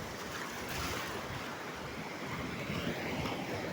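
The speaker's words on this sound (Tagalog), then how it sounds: "Grabing alon mga idol oh. Napakalaki ang alon." Heavy surf roars continuously, large waves crashing and churning with a steady wash of wind noise over the water.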